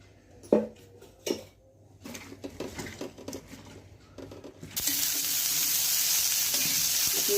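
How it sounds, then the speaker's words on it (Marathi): Hot oil sizzles steadily on a griddle as cauliflower is fried, after a few clinks and stirring knocks, the frying hiss loud and continuous through the second half. "तव्यामध्ये आपण हे फ्लावर थोडंसं परतून घेणार आहोत"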